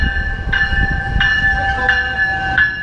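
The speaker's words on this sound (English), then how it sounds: "Metrolink train 120 servicing LA Union Station." Metrolink commuter train approaching LA Union Station, with a steady low rumble, sustained metallic ringing tones and brief pulses of squeal about every two-thirds of a second, heard close and with no voices.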